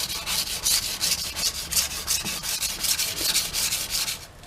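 A knife blade is stroked back and forth across a Washboard sharpening system in a quick, steady rhythm of close, rasping scrapes, about three per second, with no voices.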